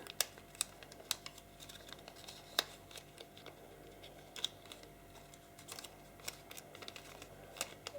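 Paper is creased into an inside reverse fold while folding an origami grizzly bear. Soft, faint crinkles and light taps come up close at irregular intervals in a quiet room.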